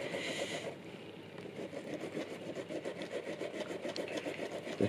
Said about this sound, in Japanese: 磨いてみますね。